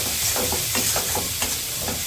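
Ground cumin and chili powder fry and get stirred in a pan with vegetables waiting, giving a steady close sizzle broken by repeated scraping strokes of a spoon.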